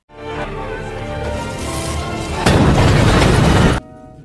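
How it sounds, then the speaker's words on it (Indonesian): A bomb explosion in a war film: a swelling roar builds, then a sudden loud blast bursts into dense, crackling noise that cuts off abruptly, with no voices. "Charlie memberikan kode kepada Anders untuk melemparkan bom"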